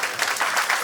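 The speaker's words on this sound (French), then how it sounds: "applaudissez pour nous-mêmes" An audience at a municipal gathering in Libreville claps together in a dense, continuous patter, a brief burst of applause at steady loudness filling the room.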